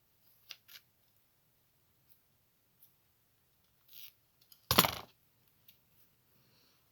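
Scissors cut across the width of card paper for a handmade card. A couple of light snips come first, then one louder, longer crunching cut, with quiet pauses in between.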